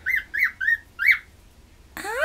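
Cockatiels give four short, bright squawks in a quick rhythmic series, then after a pause a louder, harsher drawn-out call, close by and with no talking.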